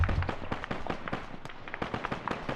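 Gunfire in the military shooter game ArmA, a rapid stream of sharp cracking shots at varying distance, some bursts close and loud, others fainter, continuing for several seconds.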